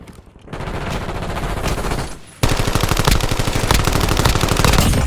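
Rapid automatic gunfire in the video game Warzone, loud and close, with one sustained burst followed by a brief lull and then a denser, harder stream of shots, no voices over it.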